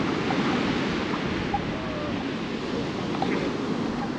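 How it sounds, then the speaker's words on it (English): Strong wind roars steadily across a microphone fitted with a furry windscreen, a continuous broadband rush with low buffeting and no pauses. "I don't know whether you'll be able to hear me with this wind."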